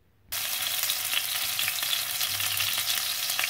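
Aubergine stuffing fries in a pan with a steady, close, broadband sizzle that starts abruptly and continues without a break, with no one talking.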